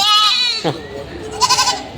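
A goat bleats loudly with a wavering, nasal cry at the start, followed by a shorter, quieter bleat about a second later, during stormy weather.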